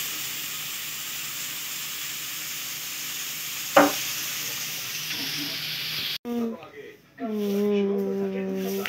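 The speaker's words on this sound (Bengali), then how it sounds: "এখন চাউমিন রান্না করছে" Egg chow mein sizzles steadily in a hot pan in a home kitchen with a broad, continuous frying hiss and one sharp clank partway through, then cuts off abruptly as a voice speaks over a fainter sizzle.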